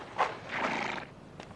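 A horse whinnies once in a drama scene, a short, moderately faint neigh rising and trailing off with a small sound after it and no talking over it.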